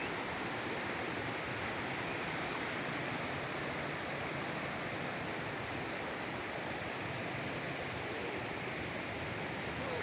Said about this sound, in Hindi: पानी की आवाज़ है।